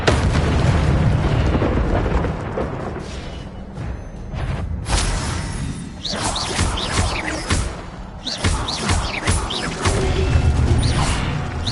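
A burst of Incendio fire-spell magic in the Hogwarts Legacy video game, heavy roaring blasts and crackling flame bursts, loud and dense, swelling and repeating over several seconds with no talk.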